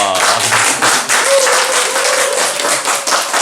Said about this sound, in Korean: 관중들 박수 한번 부탁합니다